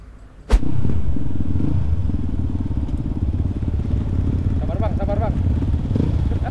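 A group of supermoto motorcycles rides by after a sharp thump, their engines a loud, close, continuous rumble and clatter of several bikes, with a couple of higher revs near the end and a voice speaking briefly over them.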